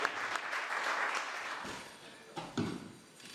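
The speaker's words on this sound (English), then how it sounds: "So another round of applause for the elf" Audience applauding at a street juggling show, a dense burst of clapping that rises then tapers off, with a few louder scattered claps near the end.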